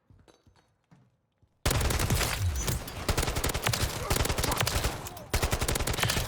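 A Kastov 74u assault rifle fires in Call of Duty MW3 multiplayer: after a brief quiet moment, a loud, sustained automatic burst rips out with rapid, closely spaced shots, broken by a short pause before firing resumes.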